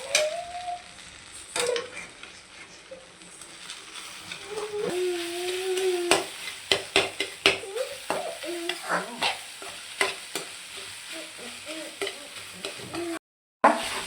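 Okra and egg powder fry sizzles in a pan and is stirred repeatedly for about fourteen seconds, with scraping strokes and steady crackling at moderate loudness and no one speaking.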